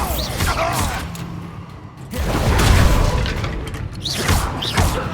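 A dense, roaring blast from the Bombarda spell in Hogwarts Legacy, a swelling explosive rumble with crashing debris and whooshing magic, continuous and loud with combat noise throughout.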